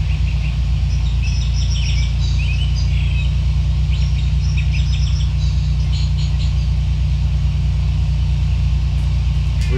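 Aircraft engine held at taxi throttle in the Prepar3D flight simulator, a steady loud low drone with a continuous rumble and faint high tonal whine, unbroken throughout with no speech.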